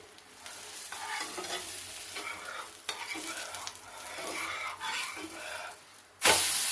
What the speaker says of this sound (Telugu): బాగా రోస్ట్ అవుతుందండి